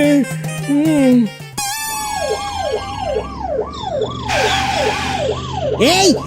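Ambulance siren wailing in steady rising-and-falling sweeps, loud and close, after a short burst of music at the start, with other tones briefly layered in.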